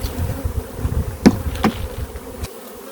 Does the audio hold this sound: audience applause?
no